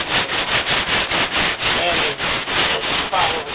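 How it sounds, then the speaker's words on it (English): A car door's metal panel is block sanded by hand with 100 grit sandpaper, giving loud, even back-and-forth rasping strokes in a steady rhythm, with no talking. "follow the contour of the metal that you're sanding"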